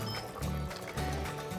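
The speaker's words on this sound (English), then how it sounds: "Look at it bubbling." Mexican beef in an opened Instant Pot pressure cooker, on keep warm after cooking, bubbling with a soft irregular simmering gurgle close by.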